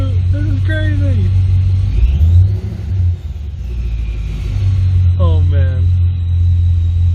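A Camaro SS fitted with a ProCharger supercharger rumbles steadily at low revs, around 2,000 RPM, its deep engine drone close and continuous beneath excited talk.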